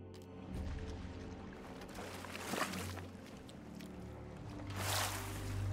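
Water bailed out of a ship with a bucket in a video game, repeated sloshing scoops and pours with watery splashes over a low rumbling background, near and moderate, no talking.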